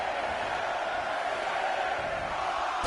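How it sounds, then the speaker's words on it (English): A wrestling crowd in the WWE 2K20 video game roars in a dense, steady wall of cheering that holds at an even loudness throughout. "Listen to this crowd."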